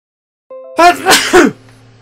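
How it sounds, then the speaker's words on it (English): A single loud, close sneeze with a sharp inhale building up into an explosive burst, then quickly fading. "And I sneezed."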